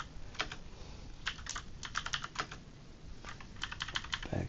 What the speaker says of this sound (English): I'll type in basically the exact same thing that I did up above